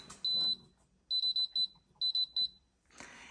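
Air fryer set to air fry at 400 degrees for preheating, giving one longer electronic beep followed by quick clusters of short, sharp beeps, close and clear, with a small clatter at the end.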